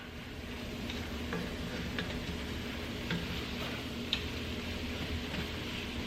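A flour roux cooks in a cast iron pot for braised short ribs, giving a soft steady sizzle with light scraping and occasional small ticks of a utensil against the bottom, fairly quiet and close.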